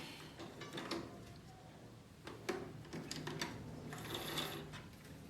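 Sewing machine stitching along a fabric edge while making girls' boxer shorts, a faint close whirring with light mechanical ticks and clicks, running in short uneven bursts.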